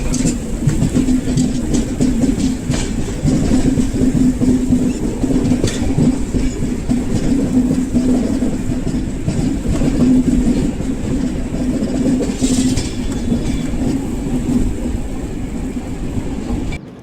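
The 16334 Trivandrum–Veraval Express rolling out of Rajkot onto the Veraval line, a loud continuous rumble with steady clickety-clack from the wheels and a constant low hum, heard from on board.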